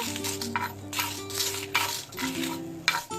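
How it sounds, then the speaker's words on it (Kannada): Red chillies, coriander seeds and cumin frying in hot oil in a pan, with steady close sizzling, stirring scrapes and light utensil clinks against the pan, no voices. "ಇವಾಗ ಇದಕ್ಕೆ ಕೆಂಪು ಮೆಣಸಿನಕಾಯಿ, ಧನಿಯಾ ಹಾಗೆ ಜೀರಿಗೆ. ಸೊ ಇಷ್ಟನ್ನು ನಾವು ಒಳ್ಳೆ ಅರೋಮಾ ಬರೋವರೆಗೂ ಫ್ರೈ ಮಾಡ್ಕೊಳ್ಳೋಣ."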